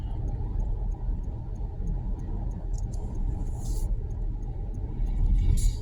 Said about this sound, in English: So we're driving at around 44.